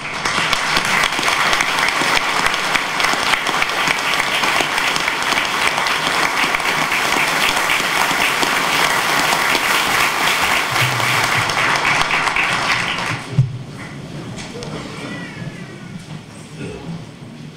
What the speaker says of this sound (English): And if you could please stand again and clap for him.